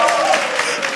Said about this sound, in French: Applaudissez pour Frida